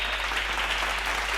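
A church congregation at a Tamil Sunday service claps together in a steady, dense wash of applause at moderate volume.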